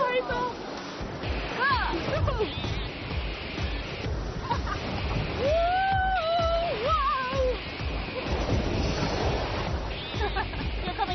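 River rapids crash and splash around a raft in Zhangjiajie's icy summer water, a loud, continuous rushing roar with excited shouts and voices over it.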